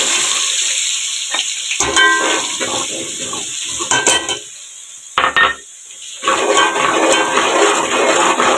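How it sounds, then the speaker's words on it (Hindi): Ginger garlic paste frying in ghee in a pan for aloo pulao, a steady loud sizzle broken by stirring scrapes and brief dips where the hiss quiets before swelling again. "अब हम घी में अदरक लहसुन का पेस्ट डालेंगे,"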